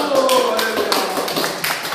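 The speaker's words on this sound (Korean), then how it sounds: "자, 박수!" Applause for a newlywed couple during a Korean church Sunday service: a dense patter of clapping hands fills the room throughout, with a voice speaking over it.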